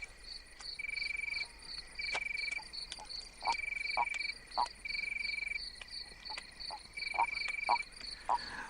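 Toads at their breeding site during mating season, heard as repeated trilling calls in rhythmic bursts, some nearer and some farther off, layered over a steady insect-like chorus with no talk.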